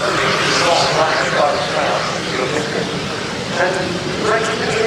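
A Swedish Air Force JAS-39C Gripen fighter jet at an air show gives a loud, broad roar that swells and eases as it brakes to a short stop.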